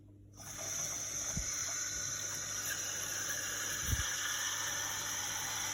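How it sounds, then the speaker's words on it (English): Water from a tap poured steadily into a Sealskinz waterproof glove, a continuous close hiss and gurgle of filling that starts abruptly and runs on without pause, with a couple of faint low thumps. "if you fill it full of water, no water should escape and that should fill up like a balloon"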